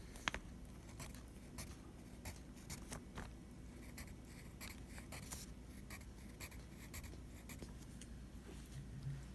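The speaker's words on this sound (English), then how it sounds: "we're going to draw a dotted line" A pen or pencil on paper taps and scratches out a dotted line on a graph, a rapid run of light, close ticks and short strokes that continues steadily in a quiet room.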